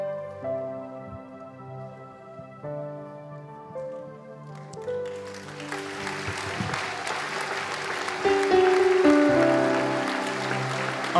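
A congregation claps and applauds at an evangelistic church service: a dense, rising wash of many hands that swells in over sustained music partway through and stays loud to the end.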